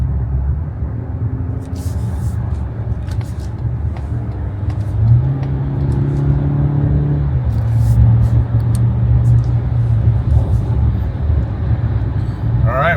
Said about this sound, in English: so you guys can hear how good this engine actually sounds